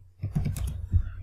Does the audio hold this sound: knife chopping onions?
no